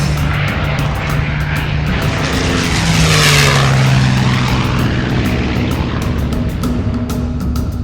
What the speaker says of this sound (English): The newest acquisition of the Wings of Freedom Tour is a rare two-seat, dual-control P-51C Mustang.